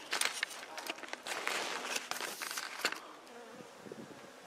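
Honey bees at an open-air hive on a cold day buzz close by in short, uneven bursts, mixed with rustling and handling noises from a beekeeper working the box.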